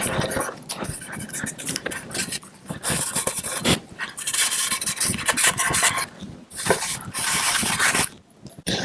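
A cloth rubs finish onto the body of a DIY guitar kit in repeated rasping strokes, close and fairly loud, in rhythmic bursts with brief pauses between them.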